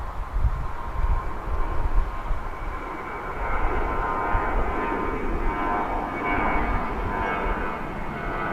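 An American Airlines jet rolls down the runway at Dallas/Fort Worth airport on its takeoff run, a steady broadband engine roar heard from a distance that holds a fairly constant level throughout, with no talking.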